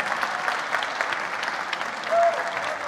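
An audience at the SNFestival 2019 programme presentation in Greece claps steadily in a dense, even burst of applause that fills the short span, with murmurs of crowd noise underneath.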